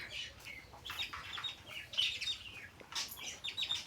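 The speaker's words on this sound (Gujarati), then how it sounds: "આ કબૂતર પણ આવી ગયો" Pigeons settled in a mango tree give a run of high, thin chirps and squeaky calls, moderately quiet and slightly distant, repeating in irregular bursts with no talking.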